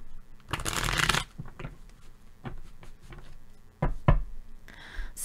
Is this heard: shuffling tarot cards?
yes